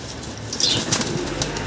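German Beauty Homer pigeons flap their wings close by in a short burst of fluttering, with faint airy rustles standing alone and no talk.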